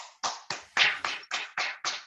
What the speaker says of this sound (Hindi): हम सब तालियां बजा करके स्वागत करते हैं।